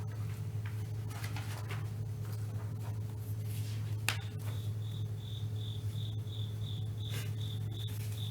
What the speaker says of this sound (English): Here's a cricket in here. It's quite loud.